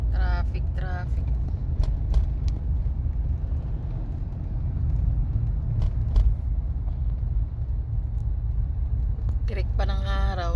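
Steady low rumble of car traffic crawling across the Bay Bridge toward San Francisco in California, a continuous engine drone with a few brief sharper sounds, under talk.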